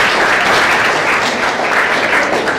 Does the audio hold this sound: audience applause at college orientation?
yes